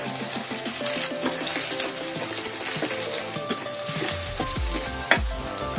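Garlic and ginger frying in a pan, a steady close sizzle with occasional stirring scrapes and clinks, no voices.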